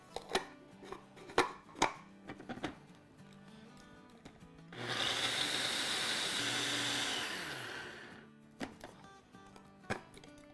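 An electric grinder whirs loudly for about three seconds, grinding sugar and pistachios into thandai powder. Scattered sharp clicks and taps from handling the jar come before and after the burst.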